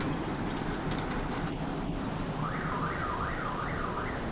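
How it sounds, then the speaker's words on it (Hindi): A distant wailing siren, like a police car approaching, rises and falls in repeated sweeps beneath steady background noise in a classroom, faint but clear for a couple of seconds. "सायरन तो ऐसा बताते बजाते जैसे पुलिस वाले आ गए।"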